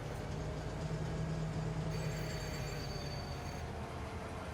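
A train rolling along in Farming Simulator 25, a steady low rumble of wheels and engine with faint high squealing tones, likely brakes, drifting in partway through.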